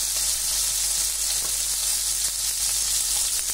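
Gadré surimi crab sticks frying in hot oil, a bright steady sizzle over a constant low electrical hum, with a few faint clicks from the pan.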